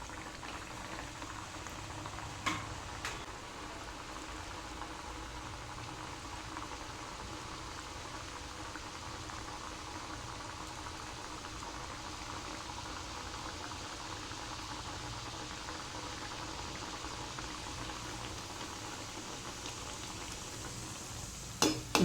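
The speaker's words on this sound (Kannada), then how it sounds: "ಇವಾಗ ನೋಡಿ ಎಣ್ಣೆ ಬಿಸಿ ಆಯಿತು. ಈ ಎಲೆಯಿಂದ ತೆಗೆದು ಈ ಥರ ಹಾಕಿದರೆ ಆಯಿತು." A sweet jaggery vada batter, dropped from a leaf into hot oil, fries with a steady, close bubbling and sizzling, broken by a few faint clinks.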